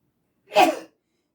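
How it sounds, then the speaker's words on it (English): A single short, sharp sneeze bursts out once in a quiet room. "oh, I gotta sneeze."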